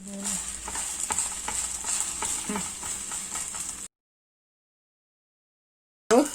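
Paneer dosa sizzling on a hot pan with a little ghee, a steady frying hiss with soft scraping for a few seconds, then silence before a brief loud clatter.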